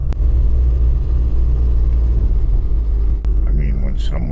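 The engine of a restored SEAT 1430 runs steadily with a loud, close, low rumble, holding the same tone throughout, with a brief voice near the end.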